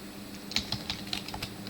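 Short burst of typing on a computer keyboard, a handful of light, close key clicks in an uneven rhythm with no voice over them.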